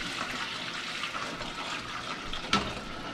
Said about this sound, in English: I'm going to pour all of this in this pot.